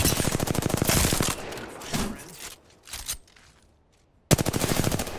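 Rapid automatic gunfire in Apex Legends, loud bursts of dense repeated shots opening and closing the stretch, with quieter scattered shots and effects between, under faint talk.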